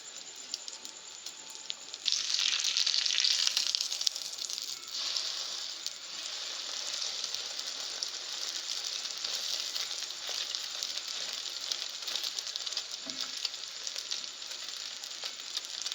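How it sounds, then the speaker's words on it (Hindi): Beaten egg frying in a pan for street-style burgers, a steady bright sizzle that jumps louder after a couple of seconds and then holds evenly throughout, close and without speech. "तो अब हम इसमें से अंदाज़न चारों बर्गर के लिए अंडा फ्राई करेंगे।"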